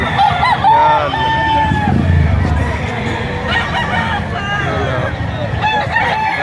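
Many chickens and roosters crow and cluck together at a poultry market in Lipa, Batangas, overlapping calls near and far, with a murmur of people in the background.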